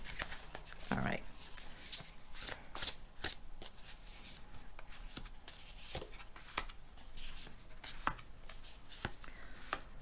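A deck of slippery tarot cards being riffle shuffled, giving repeated crisp fluttering bursts and soft slaps spread across the whole stretch, close and fairly quiet.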